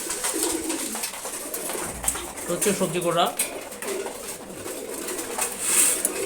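Pigeons eating their morning feed coo in low, rolling calls close by, with wing flutters and pecking, while someone talks over them.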